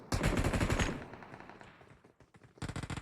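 Rapid bursts of automatic gunfire from the mobile battle royale game PUBG Mobile, loud and dense at the start, thinning into scattered shots, then another heavy volley near the end.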